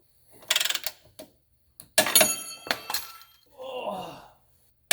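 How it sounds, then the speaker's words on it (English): A torque wrench tightens the rear bolt on a 2015 Kia Forte 5 in a few bursts of ratcheting clicks and clunks, close and separated by brief pauses, and a voice is heard near the end. "set your torque wrench to 130 foot-pounds or 176 Newton meters"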